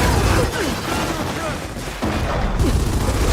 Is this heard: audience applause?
no